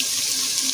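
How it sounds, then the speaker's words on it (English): Beef broth poured from a container: a brief, close, steady trickling splash of liquid, heard alone. "So I'm using beef broth."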